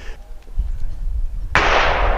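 A shotgun fires a skeet load over a chronograph: one loud, sharp blast near the end that rings on, after a stretch of quiet outdoor background.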